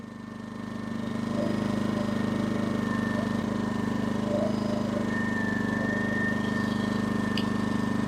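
A small portable camping generator engine idles steadily with its fuel shut off, a constant low hum and buzz, fairly faint and unchanging, with no talking over it.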